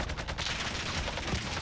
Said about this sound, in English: They're using MGs.